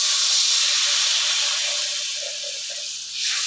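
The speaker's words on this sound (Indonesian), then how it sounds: "Aku masukkan air ya." Water poured into a hot pot while cooking rawon sets off a strong, steady hiss and sizzle of steam that eases slightly toward the end, close and loud with no talking.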